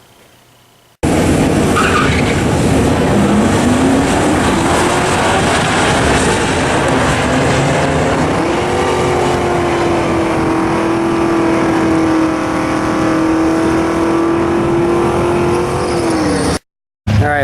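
A Camaro and a Subaru STI launching side by side at a drag strip: an abrupt roar of engines revving hard and holding a high, steady pitch, loud and close, fading out near the end.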